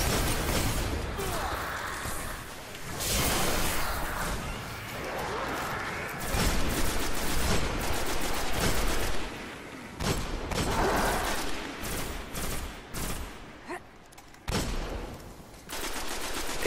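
Gunfire in the PS4 video game Destiny: dense rapid shooting in long bursts over a busy combat soundscape, loud and sustained with short breaks, ending in a few scattered shots.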